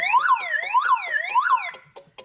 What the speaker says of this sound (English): And then the other button is the siren.